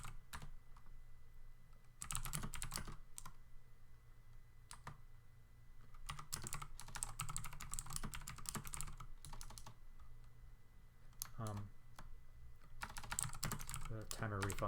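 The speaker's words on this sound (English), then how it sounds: "I'm typing up." Typing on a computer keyboard while setting up an online chess tournament: bursts of rapid, close key clicks separated by pauses, with faint talk in places.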